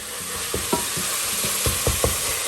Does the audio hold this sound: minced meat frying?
yes